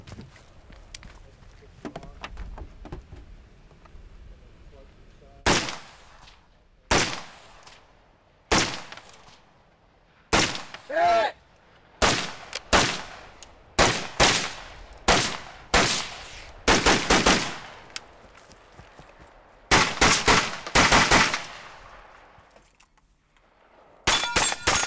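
Rifle shots crack out one after another at a shooting competition on long-range targets, about a dozen sharp loud reports spaced a second or two apart, some in quick pairs, over quiet outdoor background.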